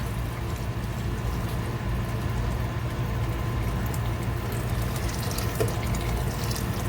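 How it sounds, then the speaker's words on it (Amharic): Hot water pours steadily into a pot of sautéed rice, a continuous close rushing and splashing that stays even throughout, with no voices. "ከዛ ውሃችንን እንጨምራለን ማለት ነው።"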